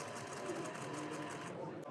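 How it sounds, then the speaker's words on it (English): Brush sweeper motors of a robot vacuum prototype built on DC motors spinning up, a dense continuous whirring hum heard close and steady under a demonstrator's voice. "another push turns on the sweeper motors."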